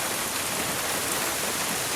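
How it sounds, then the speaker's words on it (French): Steady, dense rain falls in the video game The Last of Us Part II, a continuous close hiss of drops with no other sounds over it. "Il pleut."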